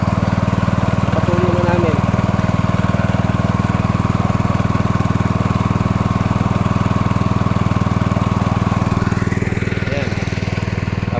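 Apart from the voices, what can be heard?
engine-driven water pump running on a farm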